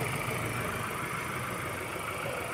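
Ford Ranger 2.0 engine with low power and a check engine light, idling in a steady, even hum that stays at one level throughout.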